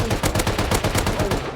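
Rapid automatic gunfire in a survival video game during a clan raid, a steady stream of loud, evenly spaced shots with no talking.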